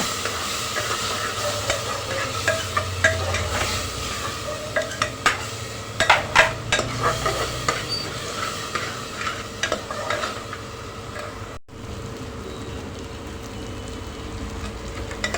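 Tomato puree with ginger, garlic, curry leaves and coriander being stirred and sautéed in oil in a pan, a steady close sizzle with repeated spatula scrapes and clinks against the pan, no voices.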